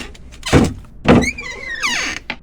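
Door thuds and scraping mechanical sounds in a Godot horror video game as a door repeatedly hits an AI enemy, two heavy knocks followed by a whirring slide and another bump, with no talking.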